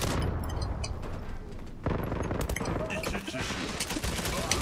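Gunfire fills a video game firefight, with dense bursts of shots and booming impacts running continuously and loud throughout, and a voice is faintly mixed in.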